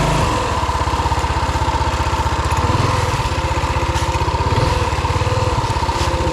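A Rokon two-wheel-drive motorcycle fitted with a 223cc Wildcat engine runs steadily, its loud close-up engine thrumming in a fast, even pulse throughout with no talking.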